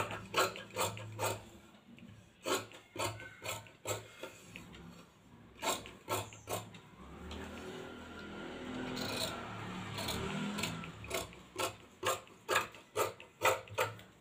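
Scissors cutting the front panel of blouse fabric, a run of crisp rhythmic snips close by, broken in the middle by softer rustling and sliding of cloth, then more evenly spaced snips, with no voices.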